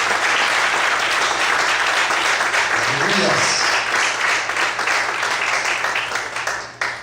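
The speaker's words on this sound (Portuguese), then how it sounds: "Você pode aplaudir ao Senhor." Church congregation applauding the Lord during a Portuguese-language sermon, a loud continuous wash of clapping with voices mixed in throughout, fading slightly at the end.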